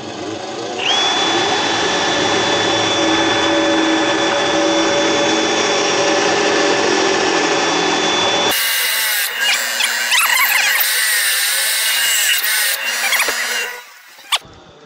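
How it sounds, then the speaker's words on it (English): A power drill whirs up with a steady high whine, then a wire wheel chucked in it grinds and scratches against metal brake parts from a 2013 Honda Civic in bursts before the motor winds down. "chuck these in the drill, one by one obviously. Turn on my wire wheel."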